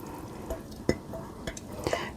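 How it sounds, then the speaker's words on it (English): Cooked ground beef from a jar tipped into a crock pot, giving a few close, wet plopping thuds and soft squishes spread over a couple of seconds. "cooked ground beef, and I'm going to go ahead and put the whole thing into the crock pot here"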